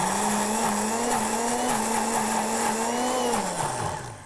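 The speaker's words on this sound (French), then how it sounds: "Donc on met en marche le blender." A kitchen blender whirs steadily as it purées milk and peas into a pea velouté, a loud, high motor whine running almost the whole time and dipping slightly in pitch near the end.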